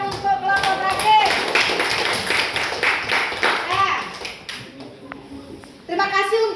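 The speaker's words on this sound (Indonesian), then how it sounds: "Berikan tepuk tangan untuk kelompok terakhir." Classroom applause for the last student group to present, a brisk burst of clapping from a small group of students that fades toward the end, with children's voices mingled in.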